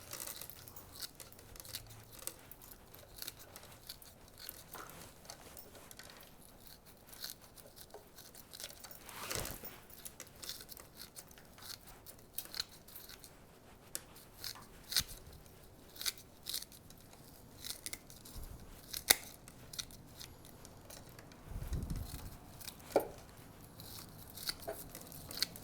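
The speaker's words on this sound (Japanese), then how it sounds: "あまりにも根が硬い場合はね ちょっと使い古しのハサミなんかでね、外側だけでも切りましょう" Quiet, close snipping and crunching of old scissors cutting through hard, tough plant roots, with scattered crackles and rustles, no voices.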